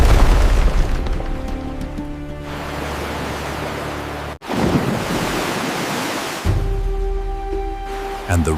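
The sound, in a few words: river water rushing back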